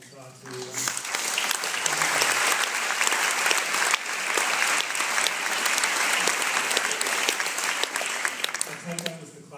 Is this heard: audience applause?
yes